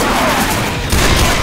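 Dense, loud pistol gunfire from the video game Left 4 Dead 2, a continuous barrage of shots and impacts that crowds the whole stretch, with a brief dip before the firing swells again.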